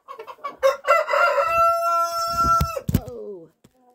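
A rooster crows loudly and close by in a snowy farmyard with ducks and other birds around, one long drawn-out call followed by a few clucks.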